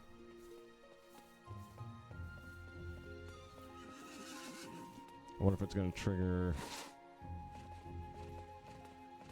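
A horse in the video game Disney Infinity gives off hoofbeats and a brief whinny over game music and ambience, while someone talks quietly in the foreground.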